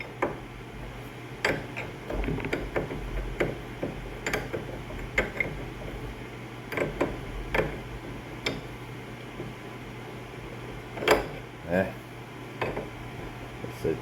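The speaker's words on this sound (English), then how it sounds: "throw that wrench on it" A wrench works on a Graco paint sprayer's pressure transducer fitting, giving scattered metallic clicks and clinks at an irregular pace over a low steady hum.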